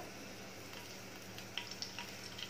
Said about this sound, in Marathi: हे तेल घेतल्यानंतर याच्यामध्ये घालायचं आहे तमालपत्र